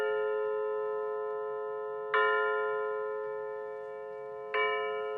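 Seiko QXM606NLH Bluebell wall clock playing its Westminster chime melody, clear bell-like tones struck one at a time with long ringing decays, close and alone in a quiet room.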